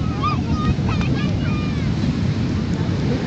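Sea waves at Poovar beach, a constant loud rushing surf mixed with wind buffeting the microphone, with faint distant voices in the background.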